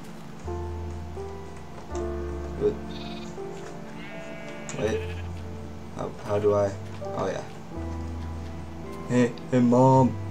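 Sheep bleating in the Minecraft video game, short repeated bleats over steady game music, with a voice talking at times.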